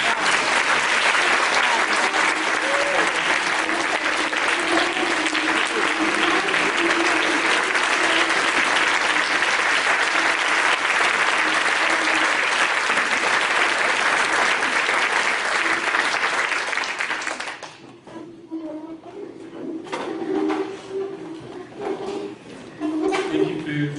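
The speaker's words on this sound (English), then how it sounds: "Let's have a final round of applause for all three." Audience applause fills a room at an interfaith prayer breakfast, a dense, loud, sustained clapping that lasts about eighteen seconds, then drops off sharply into scattered claps and quiet murmuring.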